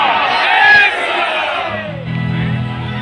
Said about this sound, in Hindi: चलो एक बार जय श्री राम के नारा लगाओ